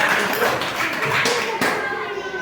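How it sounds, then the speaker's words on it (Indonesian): Children in a classroom clapping for a group during a fifth-grade coding lesson, a short loud burst of claps mixed with young voices and room noise. "Beri tepuk tangan untuk kelompok 3."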